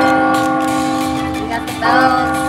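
An online slot machine game chimes out sustained bell tones, a bright ringing chord held steadily with a brief swell near the end, loud and continuous.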